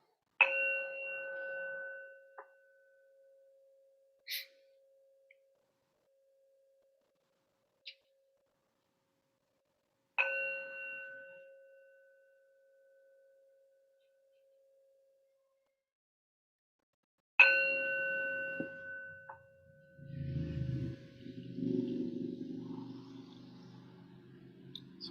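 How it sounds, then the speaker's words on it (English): A meditation bell is struck three times, each clear ringing tone fading slowly into near silence, with faint rustling after the last strike. "Hearing the bell."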